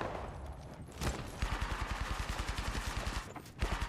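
Rapid automatic gunfire in a battle royale video game match, a dense burst after a short opening shot, then steady fast rounds with a brief gap near the end, loud and close with no talk over it.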